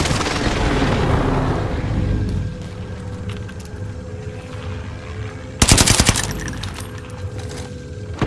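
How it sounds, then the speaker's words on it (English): Gunfire and a precision airstrike in the Warzone video game during a Resurgence quads match: sustained rumbling bombardment, then a sudden loud burst of rapid shots that fades into scattered crackling. "Allied precision airstrike incoming."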